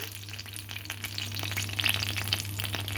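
Chopped lechon pork frying as its fat renders out, a dense, close crackling sizzle with small pops over a low steady hum, no one talking.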